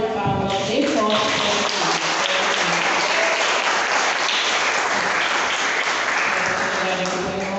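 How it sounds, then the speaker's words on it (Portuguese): A church congregation at a worship service applauding loudly, a dense, sustained wash of many hands clapping that fills the whole stretch, with a few voices briefly audible at the start. "Quem está feliz com Jesus, dê uma salva de palmas bem forte."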